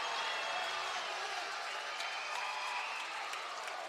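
The North Salem crowd at a basketball game cheers and applauds in a steady, distant roar that lasts the whole moment, with no single voice standing out.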